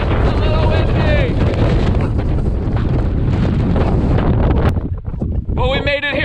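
Gusty wind roars across a Patagonia beach, hammering the microphone with dense low rumble for most of the stretch before easing briefly near the end, where a faint voice comes through.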